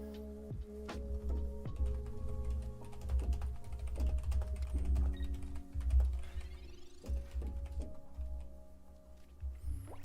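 Quick, irregular clicking and clacking of computer keyboard keys at a gaming setup for a Pokemon TCG Pocket stream. The typing runs steadily and close over about ten seconds, layered over soft sustained background music tones.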